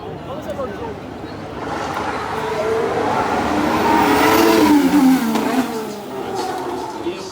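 A Formula 1 car at the Singapore night race drops through the gears, its engine pitch falling in stepped sweeps as it slows, loud and near, with commentators talking over it.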